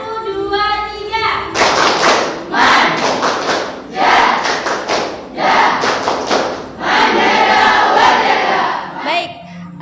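A classroom of students doing Javanese 'tepuk manja' rhythmic clapping, bursts of loud group claps and chanted voices in a patterned rhythm, with a teacher's voice before it starts.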